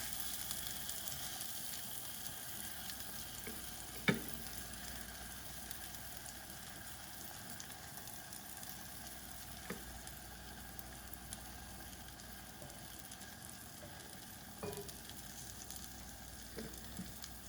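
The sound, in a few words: Cajun salmon frying in a pan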